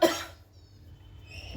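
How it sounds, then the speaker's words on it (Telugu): A person coughs once, sharply and up close, while green chillies are being ground for a ragi flour dish. A soft hum follows the cough. "పచ్చిమిర్చి వేసాను కదా, దగ్గు వస్తుంది."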